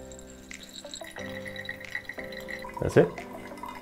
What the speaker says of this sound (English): the water coming out from the dripper seems to be similar